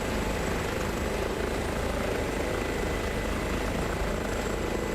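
An H145 helicopter in Microsoft Flight Simulator drones with a steady, dense rotor and turbine roar, loud and unbroken throughout with no speech.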